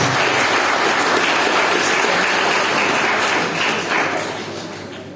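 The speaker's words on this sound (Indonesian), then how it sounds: "Kasih aplaus tepuk tangan." Audience applause at a pesantren (Islamic boarding school) alumni ceremony, a steady dense wash of many hands clapping that holds loud for about four seconds before starting to thin and fade.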